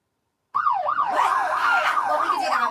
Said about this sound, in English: That's a police car.